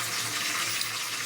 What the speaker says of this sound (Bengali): রান্না করছি, রান্না মূলা দিয়ে তেলাপিয়া মাছ।